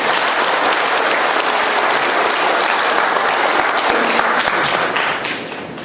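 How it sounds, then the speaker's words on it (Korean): Loud, dense applause from a large crowd at an association chapter's founding rally fills the room without a break, easing off slightly at the very end. "뜨거운 박수를 다시 한번 부탁드립니다"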